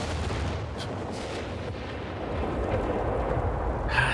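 A Nebelwerfer rocket artillery barrage in Company of Heroes 3 rolls on as a dense, continuous rumble of overlapping blasts, steady and unbroken, with no voices.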